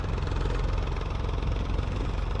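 A tractor engine pulling a loaded wagon, a loud, steady, low mechanical drone that stays constant throughout with no talking.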